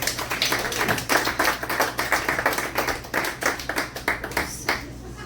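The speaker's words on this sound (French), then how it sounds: "Bonne main d'applaudissement" A cabaret audience gives a round of clapping, distinct individual hand claps in a brisk irregular rhythm, fairly close and moderately loud, tapering off at the very end.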